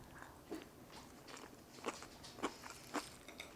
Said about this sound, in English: Let's eat some tuna casserole.